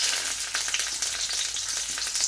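Onion frying in hot butter in a wok crackles with a dense, constant sizzle up close, steady and unbroken with no voices.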